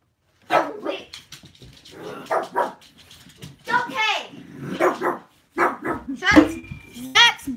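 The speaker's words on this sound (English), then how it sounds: "barking out the window" A dog barks and yips out a window indoors in a string of close, uneven barks, mixed with people talking nearby.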